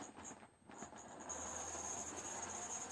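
A model railway train runs at full power, humming and rattling along steadily, a faint mechanical whir with a high whine, continuous and unbroken; the locomotive needs cleaning.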